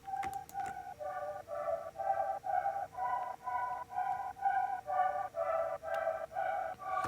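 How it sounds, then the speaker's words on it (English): Soft atmospheric synth melody plays a steady run of evenly spaced, pulsing notes, about two per second, faint and alone as background support in a 90s house-inspired track. "we have a support melody that plays throughout the whole track. It's like very atmospheric melody that I like"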